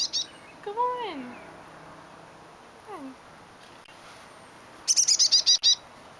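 A chickadee chirps near a tree: a few scattered calls early, then a rapid run of about seven high, bright notes near the end, over quiet background.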